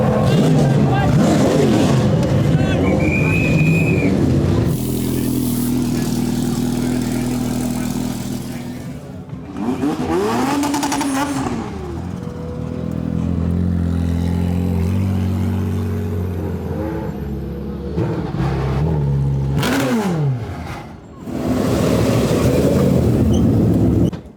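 Formula One race cars on demonstration runs at the Goodwood festival roar and rev in repeated bursts, rising and falling as they pass, while someone talks over and between the engine noise.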